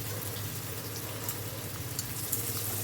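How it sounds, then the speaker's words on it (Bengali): Steamed potatoes frying in oil with turmeric, a soft even sizzle with faint bubbling and a low background hum, fairly quiet and continuous. "ভাপিয়ে রাখা আলুটা তেলের ভেতর দিয়ে দিলাম। একটু ফ্রাই করে নেব।"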